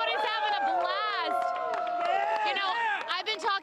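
Dense crowd of people on Fox Square on election night, a continuous loud hubbub of many overlapping voices and shouts, steady throughout with a brief dip near the end.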